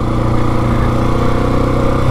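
A dual sport motorcycle runs steadily through silty sand, its engine droning loud and close at an even throttle for the whole stretch, with no talking.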